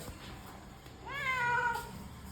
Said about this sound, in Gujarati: આમાં મીંદડી છે